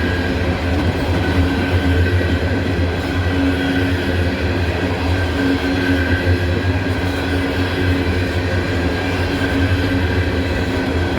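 A heavy freight train hauling coal cars labors up a three-mile grade, its steady loud rumble and deep engine drone continuing without a break from start to finish, with faint wheel clatter running underneath.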